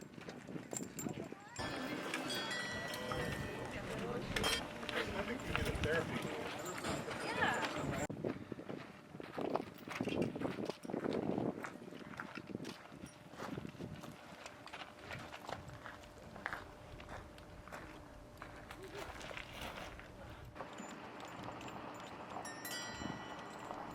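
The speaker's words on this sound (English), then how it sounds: "Now 20 animals is a lot of mules and a couple horses to harness and get hitched." Mules and a couple of horses harnessed to borax wagons at a Death Valley parade clop along in an irregular stream of hoof strikes, with voices talking over them throughout.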